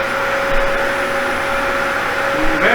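A Dyson vacuum cleaner runs steadily with a loud, continuous motor whine and a sharp tonal hum. It sounds close by, with no voices over it.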